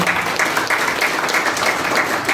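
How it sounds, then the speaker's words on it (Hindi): An audience at a public event for a district employment centre in Hapur applauds continuously, a loud, dense wash of clapping that holds steady throughout without a pause. "डॉक्टर राजीव जी, और एक बार ताली बजा के आप उनका स्वागत करेंगे।"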